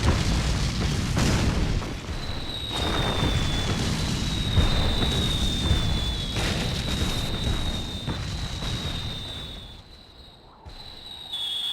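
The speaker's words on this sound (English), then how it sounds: "I'll use the cannons to stop their attack." Cannon fire and explosions in the video game BackStab form a continuous rumbling roar of booms and bursts lasting several seconds, with a thin whistling tone gliding over it before it eases near the end.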